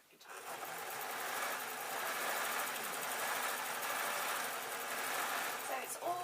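A sewing machine stitches a fabric desk tidy in one continuous run, a steady rapid mechanical chatter close by that starts up, holds evenly and stops near the end, with faint voices in the background.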